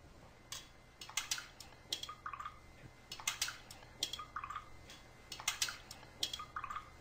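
Small cups of different drinking waters, including bottled, soda, tap and alkaline, are stirred in quick succession, giving faint, close clinks and light liquid swirls in irregular bursts.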